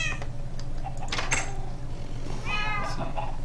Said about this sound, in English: I'm keeping these kitties.